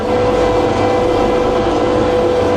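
A six-cylinder engine of a Claas Mercator 75 combine harvester runs steadily up close, a loud continuous rumble with a droning mechanical hum throughout and no pauses.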